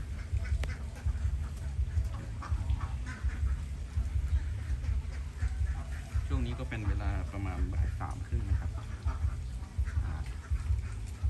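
Young ducks quack in a pen beside a house, with a burst of loud, repeated quacks partway through over steady background noise, while someone talks on and off.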